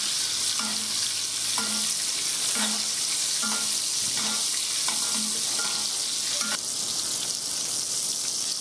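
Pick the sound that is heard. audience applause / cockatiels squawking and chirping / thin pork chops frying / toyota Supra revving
thin pork chops frying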